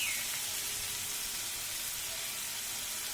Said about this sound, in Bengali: প্রথমে আমি এখানে পানি ছাড়াই মাছটাকে একটু কষিয়ে নিব